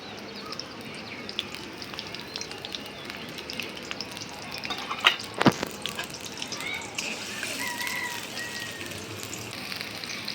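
Chopped onion frying in hot soybean oil in a kadhai, a steady close sizzle throughout with a couple of sharp clatters midway.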